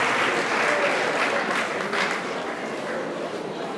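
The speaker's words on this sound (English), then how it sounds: "Let's clap for our gold participants." An audience at a maths league excellence awards ceremony claps for gold participants, a dense, loud and continuous wash of applause that holds steady throughout.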